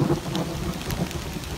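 Rain falling in a forest with thunder rumbling through it, a steady patter of drops over low rolling rumbles, fairly close and continuous, with no voices.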